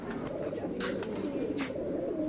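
A silver pigeon coos continuously in low, throaty murmurs, close by, with a few soft rustles over it.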